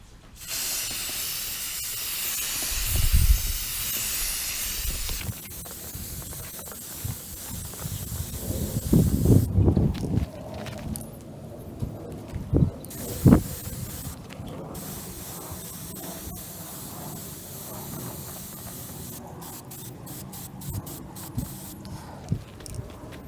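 Primer sprays from an aerosol can onto an aluminum R2D2 part in short hissing bursts separated by pauses, with can rattles and small handling clicks between passes, close up.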